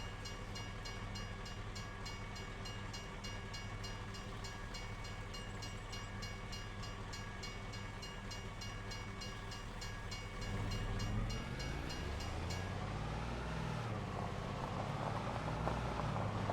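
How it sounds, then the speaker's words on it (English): Train in the Farming Simulator 25 video game rolling past on a rural Arkansas map, a loud continuous rumble of rail wagons with a steady drone and a shifting whine toward the end, close and unbroken, with no talking. "Train works. Train crossing guards work."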